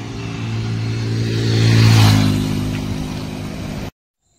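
Motorcycle engine on a highway near Chiplun, a close, steady hum that swells to a louder rev in the middle, eases back down and then cuts off abruptly.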